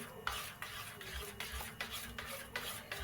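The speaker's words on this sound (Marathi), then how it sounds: "मीठ ह्याला चांगला हलवून घेऊया" A spoon repeatedly scrapes through jowar and wheat flour batter seasoned with salt in a bowl, in steady rhythmic strokes about twice a second. The sound is close and moderately loud.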